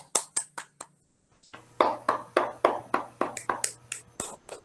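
Classroom pupils clapping hands in sharp, distinct claps: a few sparse ones, a brief pause, then a rhythmic run of about a dozen evenly spaced claps, fairly close and loud.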